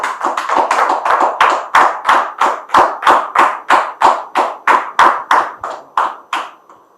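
Steady, evenly spaced hand claps from an audience welcoming a guest, about three per second, loud and close with sharp attacks, slowing and fading near the end.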